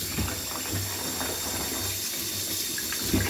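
Water runs steadily from a shower tap in a home bathroom, a continuous broadband splash with low gurgling underneath, fairly close and moderately loud, with no talk.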